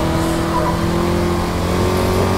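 A Formula Vee race car with an air-cooled Volkswagen Beetle engine and 4-speed gearbox drones loud and steady in a racing game at Buenos Aires, the engine note holding near-constant with a faint tire squeal.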